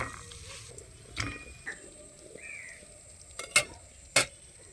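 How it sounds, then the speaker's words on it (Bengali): Peanuts frying in oil in a pan, a soft, steady sizzle broken by a few sharp metallic clinks of a spoon stirring, close by, with no talking. "এখন বাদামগুলোকে আমি সুন্দরভাবে ভেজে নেব।"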